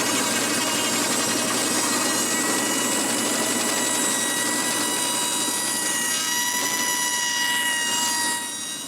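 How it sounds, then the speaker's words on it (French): A band saw slices through wooden beams raised above the saw table, with the blade pushed along the cut line; a steady, loud buzzing drone with whining high tones runs continuously and eases off near the end. "Mais le reste, lui, il est coupé avec ma scie à ruban."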